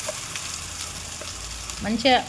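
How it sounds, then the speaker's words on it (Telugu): Spice paste and curry leaves frying in a pan for palak ulli karam, a steady soft sizzle throughout with a louder burst of crackling near the end as the mixture is stirred. "మంచిగా వేగాలి. అది వేగితేనే మనకు టేస్ట్ వస్తుంది."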